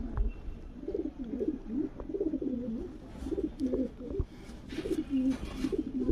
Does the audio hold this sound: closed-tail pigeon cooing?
yes